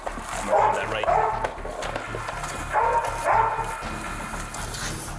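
Police canine barking during a search for a thief, a few sharp barks and yips in separate bursts under steady background noise and radio-like chatter.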